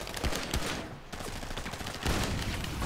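Dense gunfire from many weapons in GTA Online on PS4, a continuous fusillade of rapid shots and bursts filling the whole stretch, loud and close with no talking.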